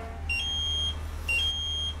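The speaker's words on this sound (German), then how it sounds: "Wir haben Alarm." An alarm at a harbour control station beeps in two long, steady, high-pitched electronic tones with a brief gap between them, clear over a low constant hum, with no talking.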